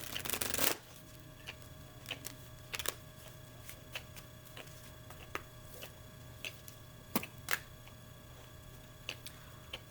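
Tarot cards are shuffled in a quiet room: a dense riffle burst at the start, then scattered soft card taps and flicks spaced through the stretch, with no talking.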